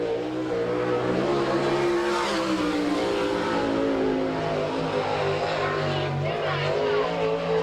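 A race car at an NCRA All Stars event in Salina, Kansas, running a qualifying lap, its engine droning loud and steady with shifting pitch throughout, under a faint announcer's voice.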